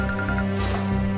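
A telephone rings with a repeated electronic trill in short rhythmic bursts, steady and fairly loud against a low background hum.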